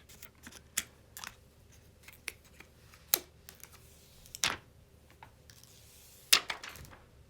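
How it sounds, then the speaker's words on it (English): Plastic protective film peeled off a new gold iPhone XS, heard as a series of sharp crinkles and crackles at irregular intervals over a quiet background. "So let's peel off the plastic."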